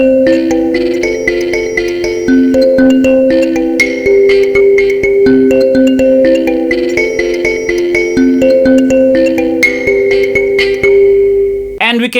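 An mbira is played with thumbs alternating left and right tines, a steady bright plucked pattern of ringing metallic notes at close range, continuing evenly before an abrupt stop.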